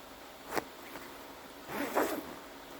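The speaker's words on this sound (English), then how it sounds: "And zip it up." A motorcycle jacket zipped up in a cold-weather riding setup: two quick zipper pulls, a short faint one followed by a longer rasping stroke, close to the mic and otherwise quiet.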